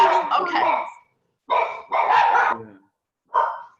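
A pet dog barks in a few short bursts, the first cluster of several quick barks, then two more bursts and a final yip, fairly close and loud, with pauses of silence between.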